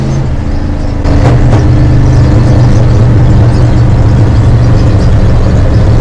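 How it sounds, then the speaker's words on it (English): A farm sprayer's C6 Corvette engine idles with a deep, steady rumble that grows louder after a couple of clicks, holding a constant low drone. "this thing actually has a C6 Corvette engine in it"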